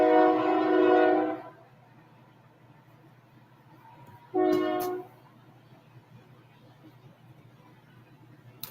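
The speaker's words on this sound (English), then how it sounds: "And there is the train behind my house." Train passing behind a house: a loud horn blast opens, then the rumble fades to a distant background hum before a second, shorter horn blast sounds, heard from indoors at a distance.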